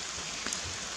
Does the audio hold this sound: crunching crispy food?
no